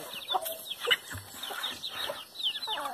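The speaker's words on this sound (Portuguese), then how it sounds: "aqui é a criação de galinha" Chickens at a chicken farm cluck and chatter in quick overlapping bursts, fairly close and moderately quiet, with no talking.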